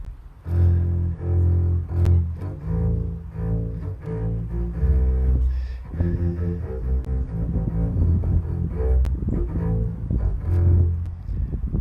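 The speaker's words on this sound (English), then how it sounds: "That's the sound of the bass." A double bass, bowed, plays a low, sustained line of shifting notes, steady and close, with no voices.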